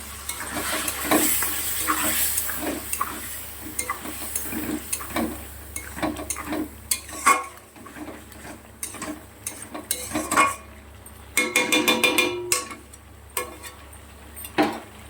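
Spice paste of ground chilli with a little water being stirred and fried in a pan, repeated scraping clicks of a spoon against the metal in an uneven rhythm over a low sizzle, close and clear.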